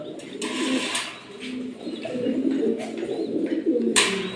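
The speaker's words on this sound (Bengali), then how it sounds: "আপনারা দেখতে পাচ্ছেন কবুতরগুলো" Running pigeons, a fine breed kept on a farm, coo steadily in low rolling phrases, close by, with a few brief sharper calls over the cooing and no talk.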